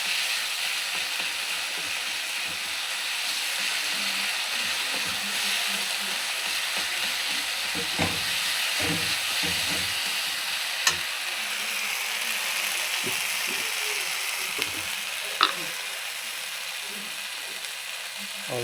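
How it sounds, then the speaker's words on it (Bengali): Spice paste of turmeric, green chilli and a little chilli powder sautéing in a pan for a vegetarian banana flower curry, with a steady close sizzle and occasional scraping clicks of stirring throughout. "মশলাটাকে কষিয়ে নিচ্ছি ভালো করে"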